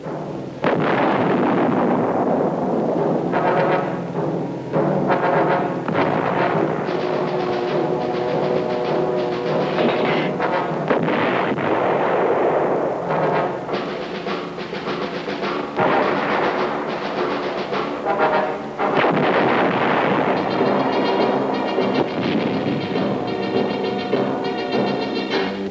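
Artillery guns firing during Vietnam War combat in Phu Yen province, heavy booming blasts and rumbling roar filling the whole stretch, loud and dense with layered echoing detonations and no speech.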